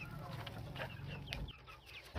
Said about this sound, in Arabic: شايفين الفراخ البلدي؟